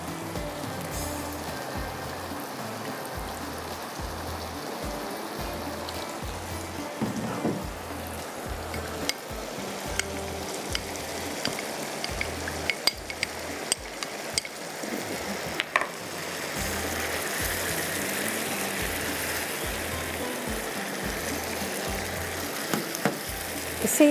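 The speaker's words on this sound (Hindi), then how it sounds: "लेकिन पहले थोड़ा सा मैं इसको पका लूँ, ये ताकि जो टोमेटो प्यूरी डाली ज़ाहिर है उसके अंदर पानी भी होता है, तो वो भी थोड़ा सा ड्राई हो जाएगा।" Tomato puree sizzles steadily in a hot pan, a continuous close frying crackle that grows louder and denser partway through, with faint stirring scrapes and no talking.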